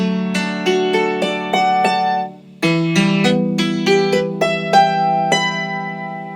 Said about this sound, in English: this is the sound of just the dulcimer without any kind of modification